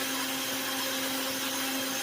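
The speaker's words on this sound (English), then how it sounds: "What I want to do is grind the wheat down so I can make it into flour." Whole wheat kernels are milled into flour in an Oster Pro Series blender with a 9-cup Tritan jar, producing a continuous loud, droning motor whir with a steady high hum and grainy hiss.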